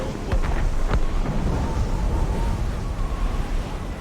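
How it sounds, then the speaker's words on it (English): Distant cannon fire booms through thick fog at sea in Assassin's Creed Rogue: a couple of deep, muffled thuds early on, then a low rolling rumble that fades out. "Cannon fire. Deep within the fog."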